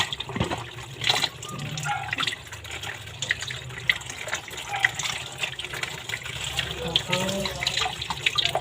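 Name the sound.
water running for washing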